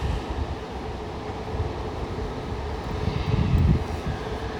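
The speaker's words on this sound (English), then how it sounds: "just sitting there with the engines like what sounds like full blast" Parked airplanes across a river run their engines near full blast: a loud, steady roar, broad low rumble with constant hiss, swelling slightly near the end; no voices.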